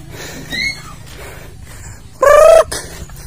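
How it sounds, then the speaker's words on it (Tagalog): Chickens on a rural farm, a brief loud cluck or squawk standing out near the end over quiet background sounds, with a softer call earlier. "May manok ka pala dito pa?"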